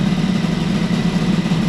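A CPI 70 scooter engine with a Doppler exhaust idles close by, a steady low, thrumming putter with a rattly, metallic edge that holds evenly throughout with no speech.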